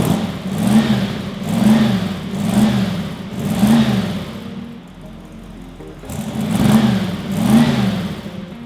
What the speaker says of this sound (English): I'd love to start it up for you so you can hear at the side exit exhaust right here.